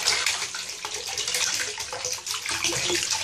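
A small submersible pump is switched on to move collected rainwater, giving a steady, fairly loud rush and splash of flowing water that continues without a break.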